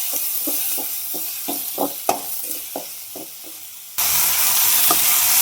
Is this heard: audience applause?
no